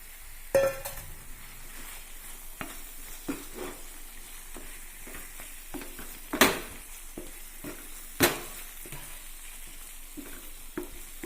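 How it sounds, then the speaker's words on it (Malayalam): Boiled potatoes go into a frying masala, with steady sizzling and scraping stirs, a few louder clanks of a spoon against the pan cutting through the close, continuous fry. "ഇത് നമുക്ക് ഈ വേവിച്ച് വെച്ചിരിക്കുന്ന ഉരുളക്കിഴങ്ങ് കൂടി ഇതിലേക്ക് ചേർത്ത് കൊടുക്കാം"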